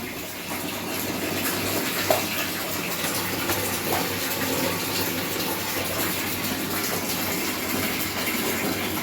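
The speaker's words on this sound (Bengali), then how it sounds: "এখন জলটা বন্ধ করে দাও ভরে গেছে" Water runs steadily from a tap into a bucket or container, a continuous gushing stream that holds level throughout with no talk over it.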